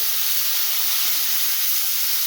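Washed miniket rice hits a hot pan for a potol muri ghonto dish and sizzles with a steady, loud, bright hiss that holds throughout without pause.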